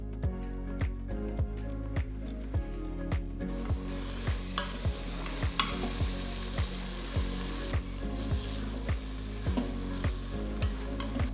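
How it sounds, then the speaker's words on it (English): Ghee sizzling with grated bottle gourd in a pan, a constant loud frying hiss under a rapid series of regular clicks and taps from stirring, close and continuous without speech. "Now I'm going to add about 3 to 4 tablespoons of ghee."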